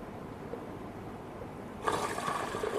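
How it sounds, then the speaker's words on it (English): Wine is poured through a filter into a storage tank. A low background rush gives way to a sudden, louder gush of pouring liquid that continues to the end. "And then we take a filter, put it on, and we pour in the wine"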